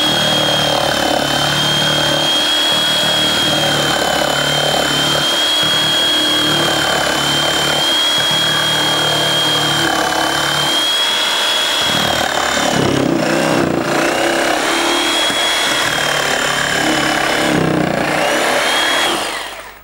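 A cutting machine works foam pattern material, notching slots into it, giving a loud continuous high-pitched motor whine with a grinding edge that holds steady for about twenty seconds, close and with no talking.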